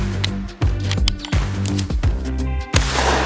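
A shotgun fires at clay skeet targets outdoors in West Virginia, several sharp bangs about half a second apart cracking over steady background music.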